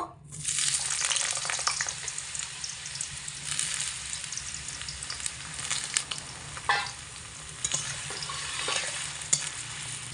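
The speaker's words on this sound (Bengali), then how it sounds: "গরম তেলের মধ্যে আলুর পিসগুলোকে দিয়ে প্রথমে ভেজে নেব।" Potato pieces drop into hot oil and set off an instant loud, broad sizzle that hisses steadily, close by, with occasional stirring.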